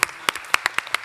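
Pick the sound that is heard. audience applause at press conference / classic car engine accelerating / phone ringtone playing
audience applause at press conference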